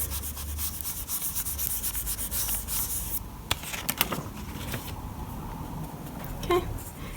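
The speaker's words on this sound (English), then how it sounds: "I'm going to try to burnish that in without removing the netting texture." Polymer clay is burnished by hand to press in a netting texture: close, soft rubbing and scraping strokes, with a few sharp taps and clicks toward the end.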